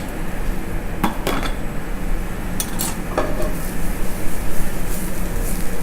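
Blanched broccoli tossed in flavored oil in a hot pan, with a constant loud sizzle and a handful of sharp metallic clanks from utensil on pan.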